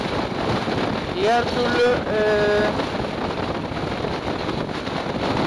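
Steady wind buffeting against a helmet while riding a SYM Jet 14 200i scooter, a loud continuous roar with a brief pitched whistling tone and a short spoken phrase over it.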